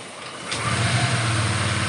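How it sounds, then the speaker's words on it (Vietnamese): A Honda PCX scooter fitted with an SH Smartkey ECM coughs into life, then settles into a steady, close, low idle hum, with no voices. "Thì bây giờ mình sẽ nổ máy cho anh em xem."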